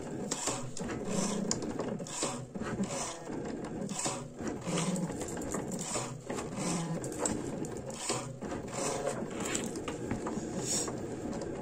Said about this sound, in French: sur l'écran, c'est marqué gravé, l'outil peut se soulever et tourner